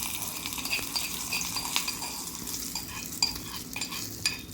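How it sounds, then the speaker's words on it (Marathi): Hot tempering with curry leaves poured and stirred into banana raita, a soft sizzle with the scrape and clink of a spoon against the bowl, close and quiet, no voices. "कढीपत्ता आणि ही फोडणी आता आपण याच्यात टाकणार आहोत"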